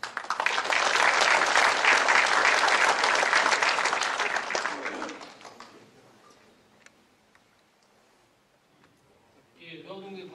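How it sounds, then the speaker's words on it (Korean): Union members clap loudly and steadily in a hall at a year-end union education meeting, the applause fading out after about five seconds, followed by quiet room sounds and then a voice beginning to speak. "지회장 동지가 입장하시면 큰 박수 부탁드리겠습니다."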